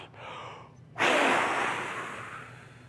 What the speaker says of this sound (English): you're breathing all your air out